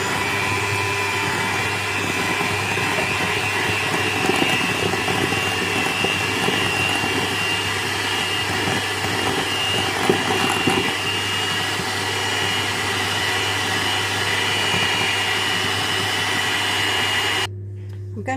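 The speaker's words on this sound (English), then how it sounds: "7 ounces of cream cheese, going to now whisk this up" Electric mixer whisking seven ounces of cream cheese for a danish pastry filling, a steady loud motor whine with a constant low hum that runs unbroken before cutting off abruptly near the end.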